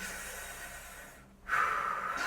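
A pregnant woman in her eighth month breathes hard through a contraction, a short nasal snort followed by a stronger, sustained exhale, close and alone with no talk.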